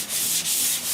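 Block sanding primer/surfacer on the roof of a rusty 1969 C10 pickup, a continuous close rasping rub with a brief dip in each stroke as the block changes direction.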